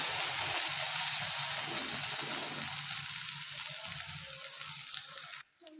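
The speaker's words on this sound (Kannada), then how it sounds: "ಒಂದು ಸ್ವಲ್ಪ ಚೆನ್ನಾಗಿ ಫ್ರೈ ಆಗಬೇಕು ಮಸಾಲೆ" Ground masala paste for paneer butter masala fries in a pan with a loud, close, continuous sizzle, easing slightly before cutting off sharply near the end.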